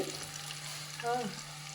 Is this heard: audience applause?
no